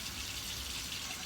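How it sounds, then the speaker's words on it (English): Running tap water rinsing hands at a kitchen sink, a steady soft splashing hiss with no voices. "Rinse my hands."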